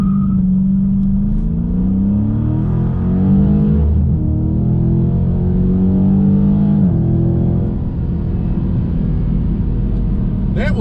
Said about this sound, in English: I'm just gonna floor it and watch it spin